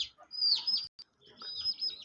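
Pigeons and a pet parrot feeding on grain together at a home bird area; bright, close chirps and tweets come in two short bursts separated by a brief pause.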